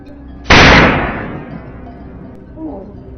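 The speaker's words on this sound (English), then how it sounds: "The sharp sound of the gunshot echoed as the massive wild boar fell in an instant." A single loud, sharp gunshot from a wild boar hunt in a field cracks out, then decays into a fading echo and rumble.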